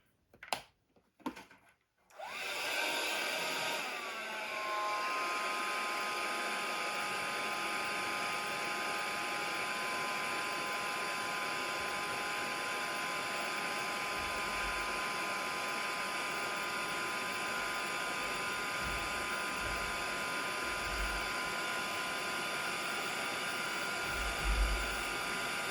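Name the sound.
heat tool drying a craft card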